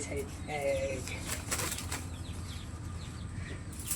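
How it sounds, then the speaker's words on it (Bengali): A released pigeon takes off with a burst of close wing flaps, loud at first, then a softer fluttering as it flies off over a farm, with faint bird calls around it. "আরেকটি কবুতর ছাড়ি, আপনারা দেখুন।"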